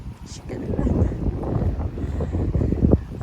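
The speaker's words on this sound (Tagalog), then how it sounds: "It's so windy." Wind gusting across an open outdoor spot, a low steady rumble and buffeting on the microphone that rises and falls slightly for a few seconds with no other clear sounds.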